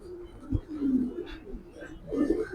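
A female Babari pigeon gives soft, low coos in short bursts, close and moderately quiet, with a few faint background sounds.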